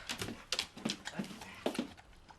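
A dog gives several short, faint whimpers and yips in a quiet domestic scene, in bursts spread across a couple of seconds.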